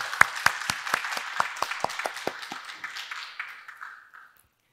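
Congregation applause during a Korean church ordination service in Sydney: a run of sharp, distinct hand claps in a roomy hall that thin out and slow down before fading into a short reverberant tail.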